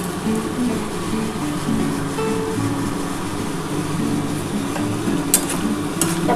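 Banana stem paste with salt and sugar being stirred in a pan, a continuous scraping and sizzling churn with a couple of sharp clicks near the end, no talking.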